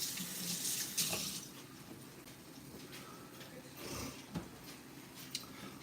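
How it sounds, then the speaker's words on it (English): Hands being washed under a running kitchen tap while cooking grilled chicken fajitas: a steady faint hiss of flowing water with occasional splashes and small clatters, no talking. "Let me wash my hands again"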